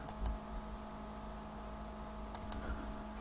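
A computer mouse clicks to compile and run a Java puzzle game in NetBeans: two quick double-clicks, one at the start and one near the end, crisp and close over a quiet room hum.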